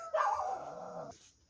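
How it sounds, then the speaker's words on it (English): A single dog bark with a short whining tail, fairly close and moderately loud, with nothing else around it. "these dogs are barking"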